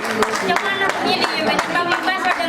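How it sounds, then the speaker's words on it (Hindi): At an International Women's Day program run by a social welfare organisation, the audience gives scattered, rhythmic clapping that sounds near and moderately loud, with a voice talking over it throughout. "तो उनके लिए तालियां बजानी चाहिए"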